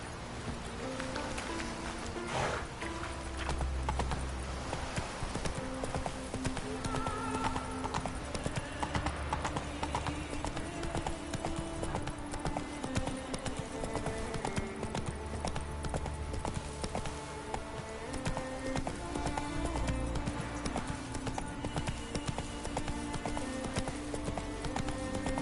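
Horse hooves galloping in The Witcher 3 video game, a fast steady clip-clop rhythm running throughout, close and clear, with faint game ambience and occasional background sounds.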